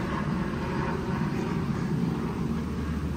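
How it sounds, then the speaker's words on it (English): Helicopters from flying tours pass over an Orlando resort, heard as a steady, moderately loud engine drone with a broad rushing hum that never breaks. No speech is heard. "you definitely hear the choppers from the people who are doing those flying tours out here a lot"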